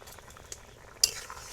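Cumin paste frying in a pan as it is stirred, a soft low sizzle with light scraping touches and a sharper clink of a utensil near the end.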